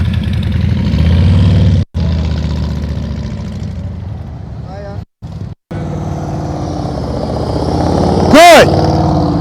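A motorcycle engine hums close by during slow-speed riding practice, rising and falling in pitch as the throttle is worked. It briefly cuts out twice and revs near the end, with talk over it.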